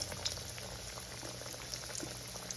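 Catfish frying in a hot skillet of oil, giving a soft, steady bubbling sizzle with small crackles, fairly quiet and close, with no voices.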